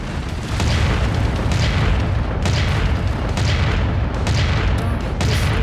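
A mech blowing up in MechWarrior 5 Mercenaries, heavy booming explosions and continuous battle rumble, loud and sustained with repeated blasts.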